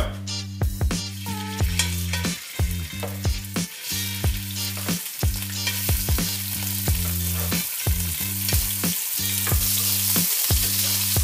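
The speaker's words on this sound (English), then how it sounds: "when you lay the filet into the frying pan, you don't touch it" Steady, loud sizzling of a tuna fillet searing in a hot frying pan, with a continuous crackling hiss and regular pulsing bursts of spatter throughout.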